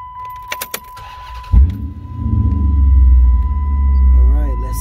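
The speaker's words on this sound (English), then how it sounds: "I'm about to start the car." A 2006 Dodge Charger R/T, just after an air bleed adapter repair, starts up. Keys jangle and a voice is heard, then the starter cranks and the engine catches into a loud, steady, deep idle rumble nearby.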